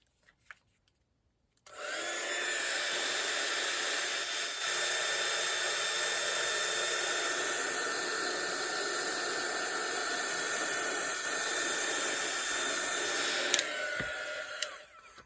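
A heat tool runs steadily while heating holographic embossing powder, a whining, airy blowing that starts abruptly after a brief quiet moment and holds at an even level until cutting off near the end.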